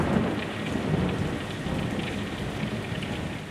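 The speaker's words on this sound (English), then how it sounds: "Rain's pouring down on Cape Canaveral." Heavy rain pours steadily at Cape Canaveral with low rumbling thunder, a dense, even roar of drops on surfaces and a deep thunder rumble beneath, continuous and fairly loud with no voices.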